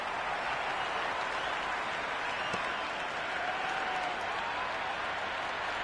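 Sustained applause and cheering from a cricket crowd at a Sydney derby after a boundary four, steady and dense throughout with no lulls, heard from a distance without commentary.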